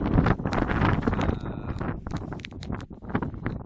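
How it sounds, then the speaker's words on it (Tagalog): Strong wind buffets the microphone on the Mount Pulag trail, a loud, gusty rumble and roar with rustling that swells and eases, heard alone without talk. "malakas ang hangin, malakas ang ulan"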